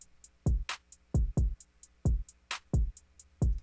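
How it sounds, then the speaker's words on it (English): A punchy, unprocessed drum loop plays alone: deep kick hits with snappy snares and ticking hi-hats in a steady, repeating groove. "So this is the first drum."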